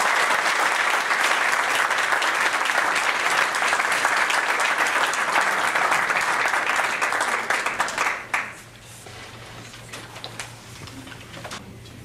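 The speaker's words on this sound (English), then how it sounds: "How about a nice warm round of applause for Steve Carlson?" Loud, dense applause from a live audience at an evening jazz piano showcase, steady for about eight seconds before dropping away to a few scattered claps and quiet room sound.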